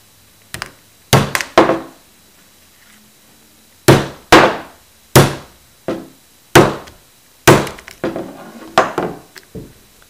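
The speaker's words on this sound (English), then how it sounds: "our next test will be the hammer drop test" A hammer is dropped again and again onto a Coby MP3 player, each drop a loud, sharp thunk with a brief rattle. Roughly ten hits come at irregular intervals with quiet gaps between them.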